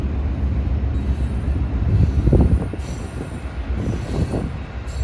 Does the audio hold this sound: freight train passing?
yes